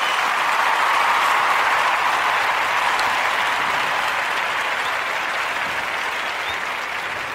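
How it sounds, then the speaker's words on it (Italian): Steady, dense audience applause on an Italian talk show about wargames and board games, sustained and fairly loud before slowly easing. "Eccolo, applauso per il nostro caro Massimiliano."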